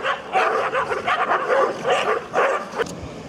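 On an island, a mongrel dog gives repeated short, yappy barks mixed with whimpering yelps in uneven bursts, fairly close and moderately loud with no talking.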